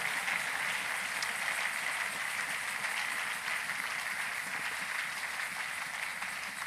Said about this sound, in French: Nous acclamons cette parole sans les commentaires de qui que ce soit.